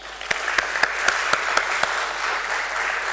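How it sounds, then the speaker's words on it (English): Audience clapping at the Tolins Tyres Limited listing ceremony at the BSE, a steady crowd applause punctuated by a series of sharp, evenly spaced loud claps near the microphone in the first two seconds. "Can we hear an applause from all of you?"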